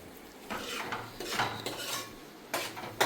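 Spices stirred in a hot cooking pan, a spoon scraping and knocking against the metal in several strokes over a soft background sizzle, close and fairly quiet.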